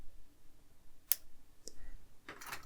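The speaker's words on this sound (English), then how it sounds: "I'm going to snip off the excess here" Excess cable end snipped off while building an R2-D2 droid model: a single sharp click of cutters, followed by a softer click and a brief rustle, quiet and close.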